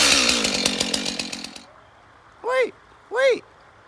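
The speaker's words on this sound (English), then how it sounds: "Maybe I'll get my chainsaw and start it up." A chainsaw runs loud and close with a dense buzzing roar, then cuts off abruptly; after a pause, two short rising whoops follow, and no one talks.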